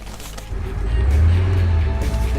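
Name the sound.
V8 car engine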